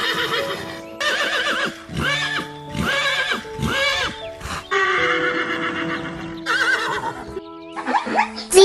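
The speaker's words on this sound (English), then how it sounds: "Horse." A horse gives several loud, close whinnies and neighs in separate bursts, with a little hoof clip-clop between calls.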